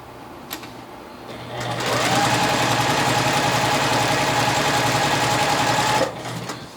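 A sewing machine runs a quarter-inch seam joining quilt blocks, a loud, steady close mechanical hum lasting about four seconds with a short softer start and finish.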